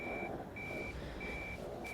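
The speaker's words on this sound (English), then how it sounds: "Alarm got triggered." A repeating electronic alarm triggered in the horror game Simulacra 3, evenly spaced steady tones that sound loud over a dense rumbling background, with no talk.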